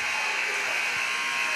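A basketball end-of-quarter buzzer blares in a high school gym, a loud continuous electronic tone held steadily for the whole moment.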